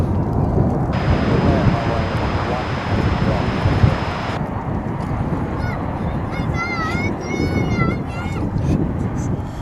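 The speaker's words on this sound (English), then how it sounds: "That American Airlines A319 is off to Austin" An American Airlines Airbus A319 jet takes off from DFW International Airport, a loud, steady broadband engine roar filling the whole clip with a thin whine, while faint voices chatter over it.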